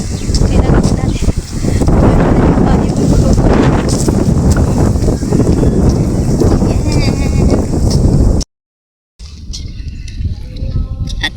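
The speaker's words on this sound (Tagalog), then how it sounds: "mahangin" Strong wind buffets the microphone in loud continuous gusts, briefly cutting out, then lighter rustling wind returns.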